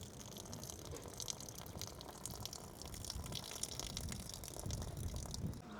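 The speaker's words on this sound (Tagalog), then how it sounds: "Tanggalin na po natin yung tubig." Water from a pot of cooked Samyang Buldak cheese noodles is poured off, a steady splashing, gurgling flow that runs continuously at moderate loudness with no talking.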